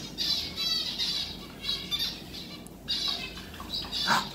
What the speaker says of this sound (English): There's some really pretty birds in here.